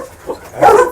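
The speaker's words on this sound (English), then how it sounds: "this is a female dog" A calm female dog gives a short, close bark or yip, with a fainter sound just before it.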